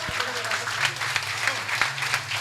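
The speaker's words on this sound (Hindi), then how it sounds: "एक बार जोरदार तालियां" A crowd claps at a live Hindi comedy show, steady applause for a couple of seconds while a voice carries on over it.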